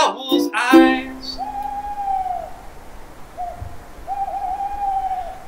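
An owl hoots several times, soft drawn-out calls spaced apart over a low outdoor hiss, after a brief burst of another sound at the start.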